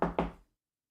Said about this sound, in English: My hands are numb from knocking on wood so damn much.